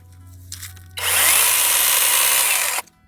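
A battery-powered Kobalt mini chainsaw whirs up into a steady high-pitched buzz for nearly two seconds, then cuts off abruptly; no talking.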